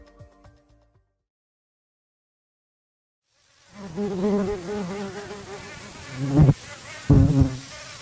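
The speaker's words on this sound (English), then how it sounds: "You probably recognize that sound. Though I hate mosquitoes, they seem to love me." After a few seconds of near silence, a high, thin insect whine buzzes steadily close by, swelling louder twice near the end.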